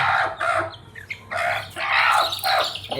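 A mother hen clucks in repeated bursts among her feeding chicks, which have gathered under her. Busy, close fowl calls with scattered chirps, and no talk.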